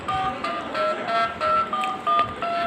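A new phone sounds a quick run of dialing key tones, about eight short electronic beeps in a brisk, slightly irregular rhythm, close and clear with no talk.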